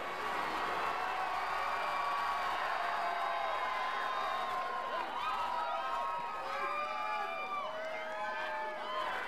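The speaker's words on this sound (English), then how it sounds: "What a crowd." A large crowd roars, cheers and whistles continuously at a governor's recall election victory speech, dense and loud throughout in a big indoor rally hall.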